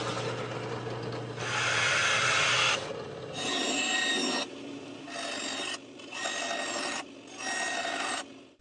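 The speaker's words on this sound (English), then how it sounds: "I figured the most convenient way to cut the holes is with a circle cutter on the drill press" A circle cutter on a drill press cuts round holes in wood stock, giving repeated harsh rasping scrapes in several bursts with short pauses between them, loud and close with no voices.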